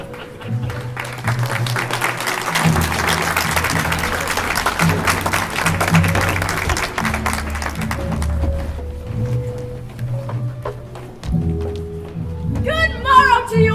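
Large crowd at a bowling tournament held at a castle, cheering and clapping in a steady roar for over ten seconds, with music and a voice-like flourish near the end.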